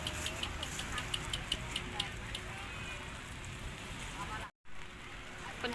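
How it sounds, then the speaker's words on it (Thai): Rain falls at Bang Saen beach on the Thai seaside, a steady close hiss of drops pattering on a surface with scattered louder ticks and a brief dropout near the end. "ฝนตก"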